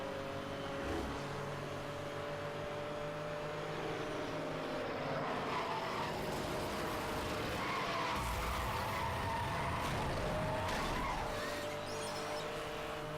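A car speeding along a street in the Need for Speed racing game, engine droning steadily with long tire squeals and skidding, loud and continuous without talk.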